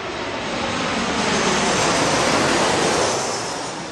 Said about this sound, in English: there's planes coming and going like every 2 minutes or so